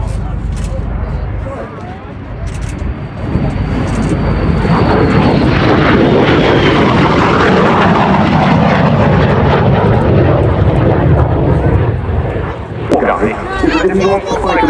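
A veteran MiG-17 jet displays at the Duxford summer airshow, its engine roar building to a loud sustained rumble overhead before easing, with a commentator talking over the noise.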